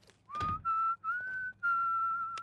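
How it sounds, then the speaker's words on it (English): A character whistling a tune in The Sims 2, clear high tonal notes in several separate phrases with short pauses between, alone and up close. "Who's whistling?"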